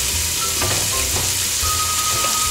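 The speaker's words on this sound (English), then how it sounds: "We're gonna drop that meat in there." Beef chunks sear in melted butter in a pot for beef stew, giving a loud, steady crackling sizzle throughout, with a few faint clinks and no talking.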